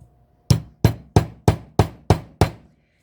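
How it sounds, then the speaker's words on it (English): Seven sharp hammer blows in a steady rhythm, hammering down protruding staples, each a loud metallic strike with a quick decay, close by with no talking. "see if I can hammer them down"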